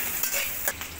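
Chicken and egg fry in a pan for fried rice, a close sizzle broken by two quick stirring scrapes, with no talking.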